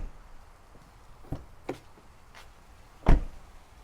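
A few soft thuds and clicks, then one sharper solid thump near the end as a Toyota Tacoma TRD Pro rear door shuts, with quiet background between.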